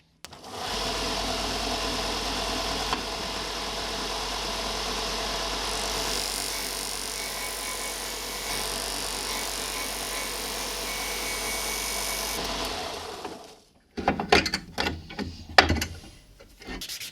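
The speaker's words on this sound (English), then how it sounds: "I can drop this then on my disc sander and just trim him down a little tiny bit." A disc sander grinds down a wooden Telecaster-style guitar nut, a steady loud whirring rasp holding for about twelve seconds before the motor cuts out, followed by a few scattered knocks and handling clatters.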